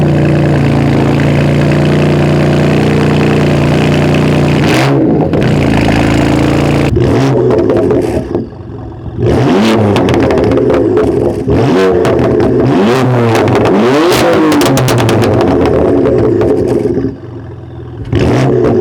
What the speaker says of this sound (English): it's legit a straight pipe